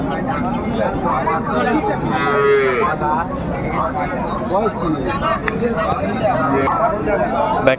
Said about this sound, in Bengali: সাইওয়াল গাভী বাচুর আমরা দেখছিলাম